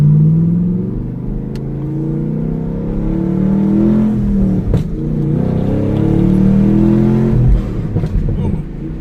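A Camaro Z28 engine revs hard toward redline, its deep rumble rising and falling through gear changes, close and loud throughout.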